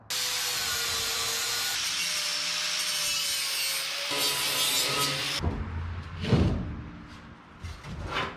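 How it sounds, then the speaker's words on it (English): Abrasive grinding on a 1/4 inch thick steel bumper for a 1984 Toyota mini truck, a steady loud rasping whine for about five seconds that then breaks into uneven scraping bursts and knocks. "Let's grind her up and weld her up."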